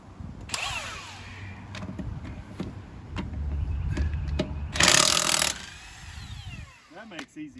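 A big Cobalt power tool whirs and rattles in bursts while loosening rusted bolts on a 1951 Ford F1 truck outdoors, with wind noise, a loud hammering spell midway and people talking around it.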